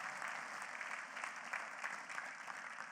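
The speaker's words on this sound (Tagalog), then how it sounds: "Ngayon na pumalakpak yung mga tao rito." A congregation claps together in a steady, dense patter that holds at an even, fairly faint level throughout, with no voices over it.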